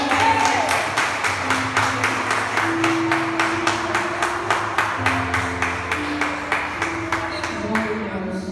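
A church congregation claps in steady unison, roughly three claps per second, loud and continuous through the whole stretch, with a faint sustained tone underneath.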